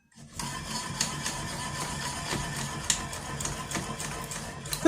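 The crank of a Craftsman 8-1/4 inch table saw is turned with a plastic mechanism, making a dry, ticking, grinding rattle with repeated small clicks for several seconds, fairly close.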